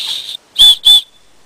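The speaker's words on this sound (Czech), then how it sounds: "Plus bonus v podobě píšťalky," A small whistle built into a Light My Fire fire starter gives two sharp, loud, shrill blasts in quick succession, close up, following a brief airy tone.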